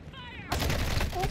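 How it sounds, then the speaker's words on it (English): Airstrike in Call of Duty DMZ, a sudden loud burst of rapid blasts and crackling impacts erupting after a brief quiet moment, with voices in the background. "Did somebody just airstrike us?"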